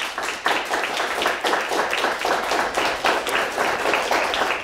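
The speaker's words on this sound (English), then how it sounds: "A round of applause for both teams." Moderate applause from an audience at a televised high school quiz bowl match, individual claps audible in a steady, slightly uneven rhythm, moderately close and continuous without talk.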